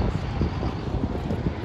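Both propeller engines of a DC-3 airliner turning over outdoors, a dense continuous rumbling drone with wind noise across the microphone, fairly loud and without speech.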